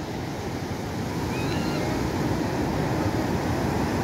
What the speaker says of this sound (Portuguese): eu vou deixar vocês escutarem um pouco o som, o barulhinho, aquele tão relaxante e gostoso barulhinho do mar